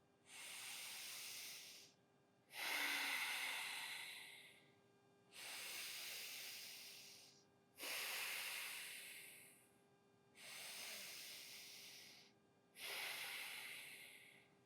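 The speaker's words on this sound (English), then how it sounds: "taking 3 final grounding breaths together" Six slow, deep breaths drawn in unison at the close of a morning yoga practice, each a long airy inhale or exhale of about two seconds with short pauses between, steady and close.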